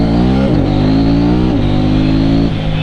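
A 2018 KTM 790 Duke twin-cylinder motorcycle accelerates hard through three quick-shifter gear changes, engine note climbing steadily and dropping briefly at each shift, loud and close on an urban road.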